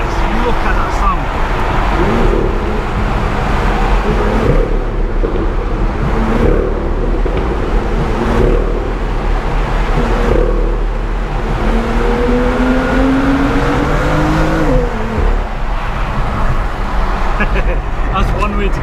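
A BMW M2 exhaust roars at about 4,500 RPM in second gear, loud and close from the cabin, with repeated rising revs and gear shifts and a voice talking over the engine.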